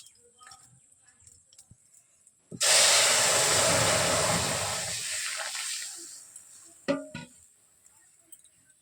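Kalai dal getting its tempering: a sudden loud, hissing sizzle bursts up and slowly fades over a few seconds, followed by a light clatter, with no talking.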